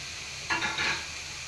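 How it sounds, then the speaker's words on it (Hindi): Onions fry lightly in a pan with a soft, steady sizzle, a brief stir or scrape of the pan midway, and no speech. "तो बसर खे असां हल्को फ्राई कयूं था"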